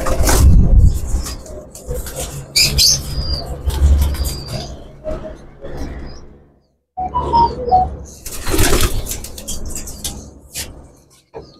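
Topidar pigeons cooing close by in repeated soft, throaty phrases with short pauses between, a brief silence midway, and faint chirps mixed in.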